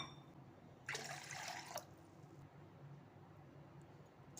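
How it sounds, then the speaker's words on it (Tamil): Water poured from a cup into yogurt for rava dhokla batter in a kitchen, a brief close splashing pour lasting under a second against quiet room tone. "அதே கப்பால் ஒரு 3 கப்பு தண்ணி விட்டுக்கிறேன்."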